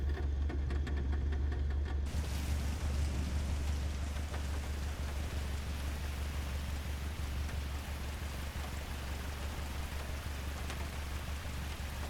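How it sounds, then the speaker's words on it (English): Light rain falling in Microsoft Flight Simulator 2024, a steady soft hiss of drops with a low constant rumble underneath, continuous and even throughout with no voices. "You can see now we got some light rain going."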